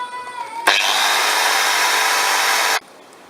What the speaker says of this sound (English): While I got the cutting disc on, I might as well cut off these brake pegs here